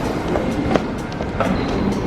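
MRT train running on rails, a continuous close rumble with faint rhythmic clicks and brief squeals while riding inside the carriage.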